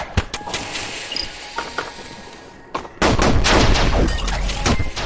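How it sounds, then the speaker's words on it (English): Enemies blowing up from friendly fire in the game Eagle Island, heard as a rapid string of sharp, loud pops and bursts, followed by a dense, sustained rumbling barrage. "There is friendly fire on some enemies, so those guys exploded themselves"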